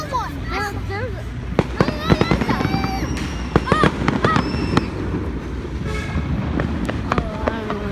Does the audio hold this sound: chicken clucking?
no